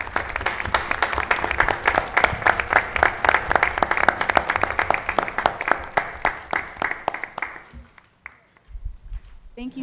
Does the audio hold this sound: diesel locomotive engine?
no